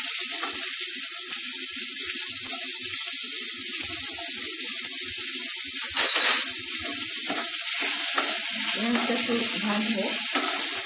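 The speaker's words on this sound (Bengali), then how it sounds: "এবারে পেঁয়াজ কুচিগুলো দিয়ে দিচ্ছি।" Chopped onions frying in oil over a low gas flame give a steady, loud hiss that runs throughout, with a few faint clatters and rustles underneath and no speech.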